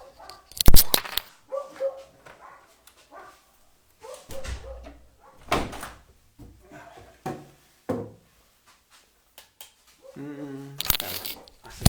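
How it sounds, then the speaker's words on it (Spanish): Dogs bark in short, separated bursts spread through the clip, some loud and close, with faint whimpers and rustling between them and no talk. "Los perros."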